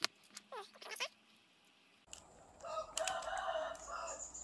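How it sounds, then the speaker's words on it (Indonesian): A rooster crows faintly from a distance at the start, followed by louder rustling and clattering nearby. "bunyi ayam pun dengar"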